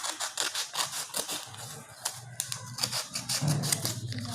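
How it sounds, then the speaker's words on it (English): Scissors cut through a sheet of folded A4 paper in a classroom craft activity, giving a run of close, quiet snipping and rustling strokes with no talk. "now cut out with the help of scissors"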